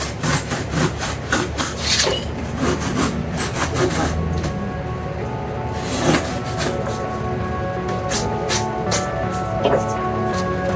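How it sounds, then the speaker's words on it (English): A rasp and a small drywall saw shape foam for a crossbow case, making close, rapid rhythmic rubbing and scraping strokes that continue throughout. "I used the rasp and this little, again, drywall saw."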